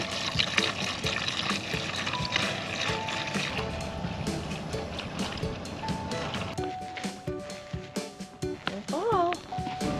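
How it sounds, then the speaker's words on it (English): Diesel trickles and gurgles while topping off a sailboat's tank at anchor on Skull Creek in Port Royal Sound. The flow is fairly soft and steady, mostly under a person talking. "Vanessa's topping off our diesel"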